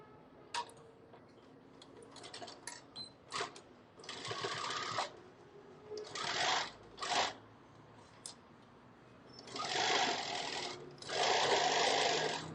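A sewing machine stitching a zipper pouch runs in several short whirring bursts, separated by ticks and handling clicks in a quiet room.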